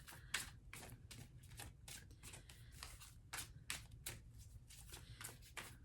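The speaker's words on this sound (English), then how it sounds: "All right, one more shuffle." Tarot deck being shuffled by hand, a quick series of crisp riffling card bursts repeating in an irregular rhythm, close and fairly quiet with no talking.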